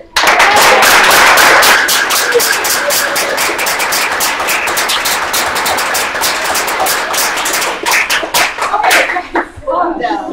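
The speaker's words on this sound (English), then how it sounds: "if we can keep our claps like to a shorter thing" Loud, dense applause from a student government senate meeting right after a motion passes, sustained clapping filling the room and thinning into scattered claps toward the end.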